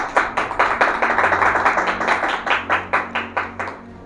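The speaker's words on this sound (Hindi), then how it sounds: "सब ताली बजाएंगे प्रभु को महिमा देते हुए।" A church congregation claps together in a steady rhythm, about four claps per second, loud and close, with sharp regular hand-clap strikes and a low background hum.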